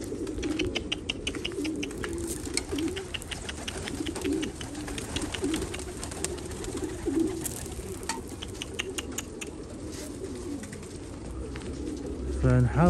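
Soft cooing of a white pigeon on a rooftop, repeated low coos under steady outdoor noise, with someone talking over the sound.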